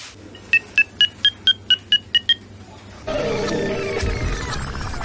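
A phone rings in a quick series of about nine bright electronic chirps, close and clear in a quiet room, then a louder burst of background noise takes over.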